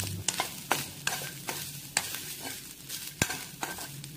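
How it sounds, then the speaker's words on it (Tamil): A spoon stirs chopped almonds and cashews into a sizzling kozhukattai filling, making rhythmic scraping strokes about every half second over a low, steady frying hiss. "இதை நல்லா மிக்ஸ் பண்ணி விட்டுக்கோங்க."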